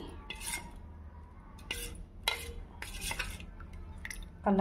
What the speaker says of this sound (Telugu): అది మొత్తం వేసేసుకుంటున్నాను. వేసుకొని బాగా మిక్స్ చేసుకొని